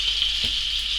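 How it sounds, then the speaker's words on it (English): Strips of pheasant breast fry in browning butter in a pan, giving a steady, close, even sizzle with a faint knock partway through. "once that butter starts browning, you can start frying this off"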